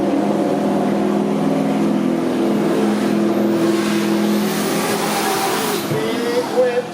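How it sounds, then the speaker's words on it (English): Drift car pulling away from the starting line at a drift series qualifying round in Miri, Sarawak, its engine droning loud and steady throughout with a rising rev near the end. "Car number 35, Fishley, pulls away from the starting line."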